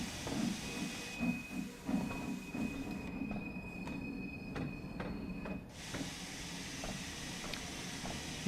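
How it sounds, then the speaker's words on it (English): LMS Jubilee steam locomotive in Train Sim World 2, rumbling steadily along the rails with hissing steam and a sustained high wheel squeal through the middle, no talking. "This is a 280 locomotive, 8 driving wheels."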